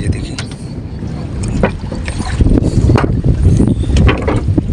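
A fishing boat works on the water nearby, with loud, continuous splashing, knocking and wind buffeting that grows stronger through the moment.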